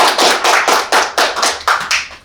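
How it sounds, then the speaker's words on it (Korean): A small group claps in loose rhythmic bursts, about eight or nine close, fairly loud beats, welcoming a presenter at a public diplomacy seminar. "먼저 환영의 박수 부탁드립니다."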